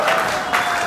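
A business-training hall audience breaks into enthusiastic applause for a payout, a brief dense burst of clapping that stays loud throughout.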